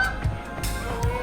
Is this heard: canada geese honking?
yes